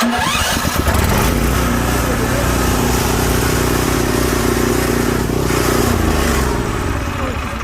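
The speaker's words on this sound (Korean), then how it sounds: "이거는 그 비료나 고구마를 운반하는 운반기가 되겠습니다" A small farm power carrier used for hauling fertilizer and sweet potatoes runs close by, its engine a loud, steady rumbling drone throughout, with a voice faintly audible underneath.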